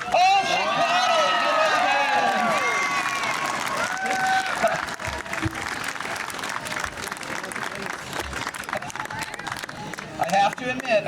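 Applause and scattered cheering from an outdoor audience at a birds of prey show, a steady crowd clatter lasting throughout, with a bird's high calls and some talk near the start.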